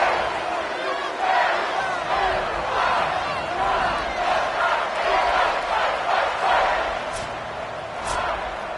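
A home crowd in a college football video game with Miami hosting Texas A&M roars in a broad sustained wash that swells and dips, with a commentator talking over it.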